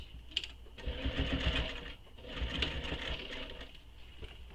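A sewing machine stitching through layered handbag fabric runs in two brief bursts of quick, rhythmic needle thumping, close and moderately loud, with short quieter gaps between.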